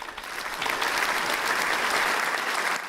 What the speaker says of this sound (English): wireless applause